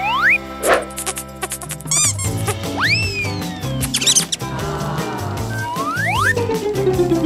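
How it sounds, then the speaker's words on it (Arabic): Cartoon-style mouse squeaks pop up over busy music, with several rising high squeals and chirps scattered throughout and other comic sound effects mixed in. "هل هذا فأر؟"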